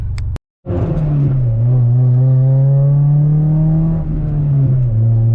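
A Honda Prelude engine with a new exhaust idles and revs, a loud droning hum with a steady low tone that rises briefly after a short cut-out, then settles and swells again.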